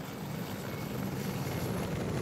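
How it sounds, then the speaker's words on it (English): A helicopter in a military shooter video game keeps up a steady, loud rotor and engine roar with a rapid chopping texture, continuous and unchanging throughout, with no voices. "Yeah, we see it. Helicopter."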